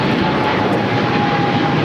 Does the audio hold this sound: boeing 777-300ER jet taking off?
yes